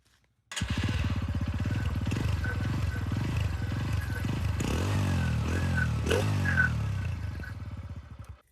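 A TVS Radeon motorcycle engine starts and idles with a steady, throbbing putter, revved a few times in rising surges before settling and cutting off.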